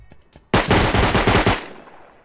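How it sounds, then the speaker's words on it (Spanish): A burst of rapid gunfire in a video game rattles out loudly for about a second, then fades into a short echoing tail, with no voices. "por aquí hay tiros todo el rato de semi"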